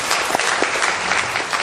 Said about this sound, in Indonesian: Tepuk tangan dong buat Purtir.